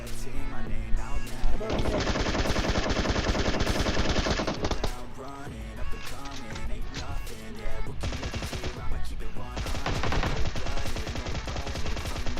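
Gunfire in a Free Fire mobile battle royale match: loud, rapid automatic bursts firing in sustained strings with brief gaps, over game background sound.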